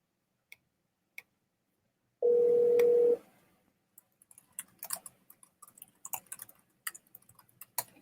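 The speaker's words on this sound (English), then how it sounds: "Oh, it's ringing." A SIP internet phone call rings out with one steady, loud tone lasting about a second, preceded by a couple of faint clicks and followed by soft scattered tapping and clicking.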